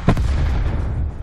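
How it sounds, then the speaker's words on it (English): A rocket launcher fires in Call of Duty Black Ops 4 Blackout, a single sharp, booming blast with a short rumbling tail, loud and close. "I got a launcher and lock on."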